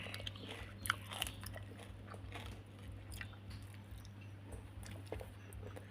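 Crisp fried food, eaten with chili paste, fried eggplant and fried egg with acacia leaves, is bitten and chewed close up in faint, repeated crunches over a low steady hum.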